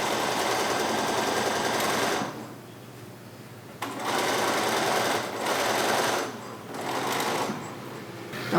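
A sewing machine runs straight stitches through fabric with right sides together, loud and close in several bursts of steady whirring separated by brief quiet pauses.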